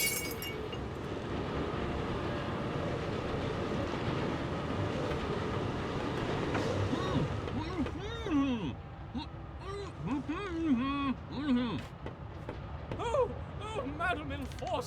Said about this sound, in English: 2 rebels have dismantled the brakes and jumped off the train.